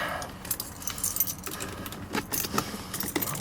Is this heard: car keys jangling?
yes